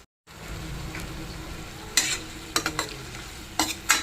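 Sliced onions fry in a pan over a low flame with a quiet, even sizzle, broken by several sharp scrapes and clacks of a spatula stirring them, no talking.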